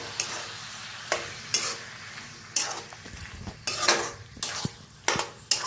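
Masala paste roasting in oil in a pan while being stirred, repeated loud scraping and clanking strokes of a spoon against the pan over a light sizzle, close up with no talking.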